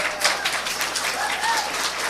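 A church congregation at a water ceremony applauds for Miguel, steady close clapping filling the short moment without a break.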